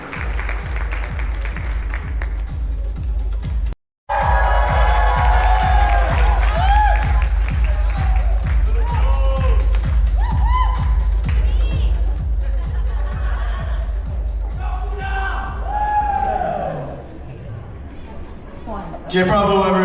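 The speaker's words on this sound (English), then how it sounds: "Yes, let's give them a round of applause," Wedding guests at a resort applaud and cheer loudly and steadily, a dense crowd roar of clapping and voices that holds for most of the stretch after a brief cut near the start, easing slightly toward the end.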